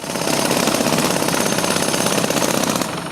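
Road repair machinery breaks up pavement during street repair work on General Svoboda Street: a loud, continuous rapid hammering rattle with engine noise that runs steadily and cuts off near the end.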